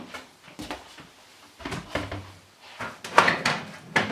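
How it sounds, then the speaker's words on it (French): Side panel door pulled off an Enermax Ostrog ADV PC case, giving a series of soft knocks, clicks and scraping rattles, the sharpest ones bunched near the end. "On tire les portes."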